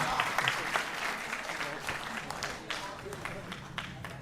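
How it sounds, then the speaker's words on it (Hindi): Strong applause rises from the audience at a mushaira poetry gathering, a dense, continuous clatter of many hands with a few voices calling out over it. "इस्तकबाल की जोरदार तालियां बजाएं"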